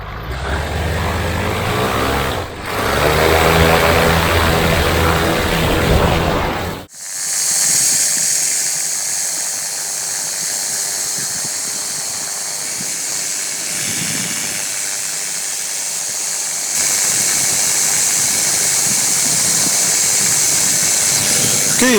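Microlight aircraft engine on a solo takeoff from an airfield near Holy Island and Berwick upon Tweed, a loud buzzing propeller drone that dips briefly, then settles into a steady high-pitched climb-out roar.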